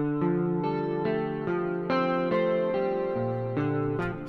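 An electric guitar plays a run of clean, warm chords through a Jazz Amp Mono Stereo simulator, each struck note ringing with a smooth amp-modeled tone and slight chorus shimmer.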